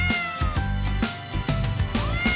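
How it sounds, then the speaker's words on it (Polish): A cat meows repeatedly, about five drawn-out cries in quick succession, close and clear with no other sounds. "Kot miałczy."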